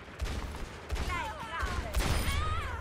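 Rapid gunfire from Ashe's lever-action rifle in the Overwatch video game, a dense run of sharp shots and crackling bursts packed under game sound effects and voices throughout.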